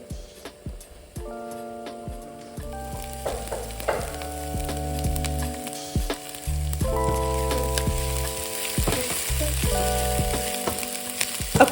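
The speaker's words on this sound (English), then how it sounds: "I've let my olive oil heat up just a little bit, and I'm going to add some chopped onions" Chopped onions hitting hot olive oil in a pan over medium-high heat for a meatless pasta, a steady close sizzle and crackle with occasional stirring scrapes and a low hum underneath, no talking.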